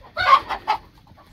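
Rooster from a flock of six living together in a coop, giving three short, close clucks in quick succession, alone with no talking.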